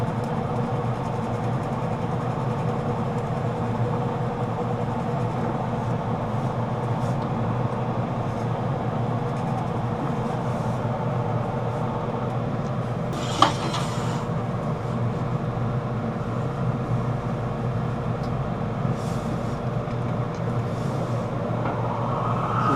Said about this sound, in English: I'm using a very long 1/4 inch bit held in vice grips.